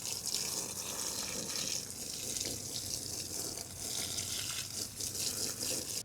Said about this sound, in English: this soil is very dry, so let's water that first